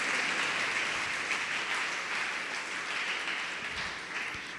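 A church congregation applauding during a sermon, a broad sustained wash of clapping from many people that stays strong and slowly tapers toward the end.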